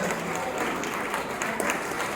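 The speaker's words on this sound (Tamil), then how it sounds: "நீங்க ஒரு உற்சாகமா கைத்தட்டீங்கன்னா" An audience at a church vacation Bible school event applauds with steady, dense clapping that fills the whole stretch, loud and continuous without pause.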